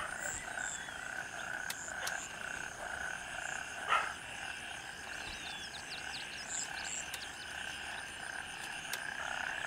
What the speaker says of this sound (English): I like the ambient frog noises. Are they frogs? Bugs? Frogs and bugs